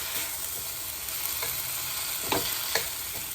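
Rice is stirred and fried in a pan for a fish-head muri ghonto, a soft steady sizzle under a few sharper scraping strokes of the spatula, close but fairly quiet with no talk.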